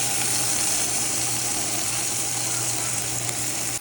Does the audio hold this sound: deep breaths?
no